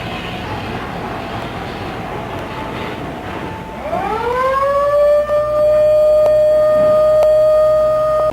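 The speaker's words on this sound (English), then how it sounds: "An automatic timer causes the siren to give out the different kinds of signals specified by civil defense authorities." A civil defense siren driven by a 10-horsepower electric motor starts from a low hum, winds up and climbs to a loud, steady, sustained wail that carries to the end.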